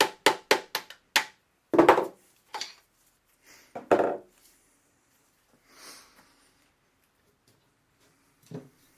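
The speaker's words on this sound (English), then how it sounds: "I'm going to move up to an old chisel I use here to finish it." Old chisel struck by a hammer while working on an Atomic 4 marine engine's reversing gear: a rapid run of sharp metallic hits, then scattered louder blows and scrapes with pauses between, close and fairly loud.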